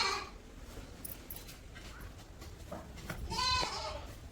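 Faint rustling and shuffling, then a single goat bleats briefly at moderate distance.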